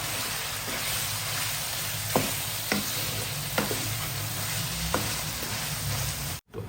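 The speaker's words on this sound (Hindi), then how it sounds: "देखो ज़रा अभी हम इसको फ्राई कर रहे हैं।" Chicken frying in a kadai over high heat, a steady loud sizzle with a few sharp stirring scrapes at intervals, close up with no voices.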